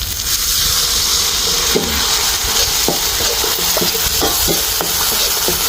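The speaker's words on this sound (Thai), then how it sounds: "เป็นหอมโชยขนาดนี้แล้วเราก็เติมน้ำเปล่านิดหน่อยนะครับ" Southern Thai curry paste stir-fries in a pan after a splash of water, a steady loud sizzle and hiss with scattered scraping strokes of a spatula.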